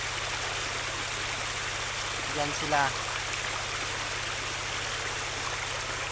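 A river flows steadily beside a riverside camping spot with a constant, broadband rushing wash. A voice speaks briefly and faintly partway through.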